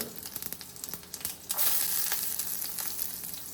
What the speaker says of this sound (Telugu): కొంచెం గోల్డెన్ ఫ్రై వచ్చేంత వరకు కలుపుతాము